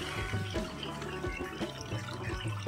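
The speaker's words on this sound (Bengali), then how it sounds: "মশলাটা ভালোভাবে কষা হয়ে গেলে এবার জল অ্যাড করে দিতে হবে।" Water pours into a pan of well-cooked spice masala for a katla fish and potato curry, a steady, loud splashing gush that runs continuously with no talking.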